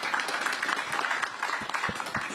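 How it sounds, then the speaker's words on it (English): Audience applause for a panel of guests at a Delhi policy forum, a brisk, even crackle of many hands clapping together, fairly loud and unbroken with no talk over it. "So just a round of applause for the gentlemen here."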